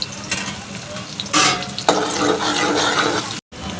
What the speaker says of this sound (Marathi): कांदा चांगला आपण फ्राय करून घेऊया